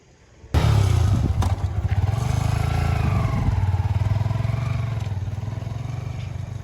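A motorcycle engine starts abruptly and settles into a loud, steady idle with a throbbing low rumble, close by, slightly fading toward the end.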